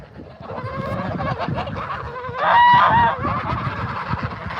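Geese honk close by in a noisy, continuous clamor, with one louder, drawn-out honk rising above the flock partway through.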